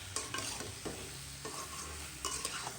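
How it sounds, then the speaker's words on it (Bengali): Cut potatoes and eggplant fry in spices in a pan. Fairly quiet sizzling is broken by several scraping stirs of a spoon at uneven intervals, close by and with no voices. "এই মশলার মধ্যে আমি এখানে যে আলু আর বেগুন কেটে রাখছি এটা দিয়ে দিলাম।"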